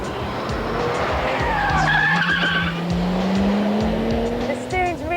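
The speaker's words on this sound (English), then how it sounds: "That noise, I tell you, is so intoxicating. It's right behind your ear." A mid-1990s sports car, a Venturi Atlantique or Honda NSX, drives hard with a loud engine note that climbs and holds close by, along with tire squeal, and a voice speaks over it.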